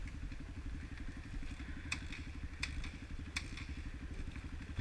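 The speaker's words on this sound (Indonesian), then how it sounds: "akhirnya motornya bisa hidup dan bisa dinaikkan" A motorcycle engine runs after repeated attempts to start on a forest trail on Mount Raung, a faint, steady, rapid idle chug with a few sharp clicks or crackles over it.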